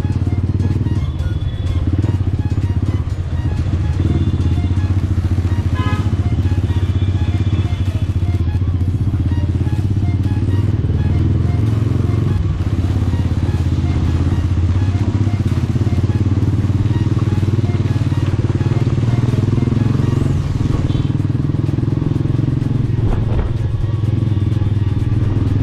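A motorcycle engine runs steadily close by for the whole stretch, a loud, even rumble with a few clattering knocks and no pauses.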